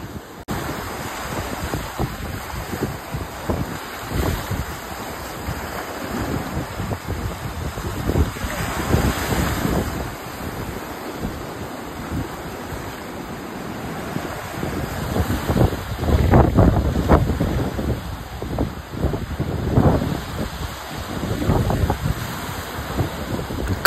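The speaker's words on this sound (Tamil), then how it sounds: "காற்று வேற சரியான உரமாக இருக்குது." Strong wind blows at sea near a fisherman casting a throw net, with continuous roaring gusts and wind buffeting the microphone over the rush of waves, loud and steady throughout with no voices.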